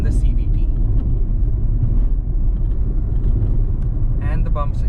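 Nissan Magnite driven over a bumpy Indian road, with a steady low rumble of the cabin and road noise throughout and faint knocks near the end as the car crosses the bumps.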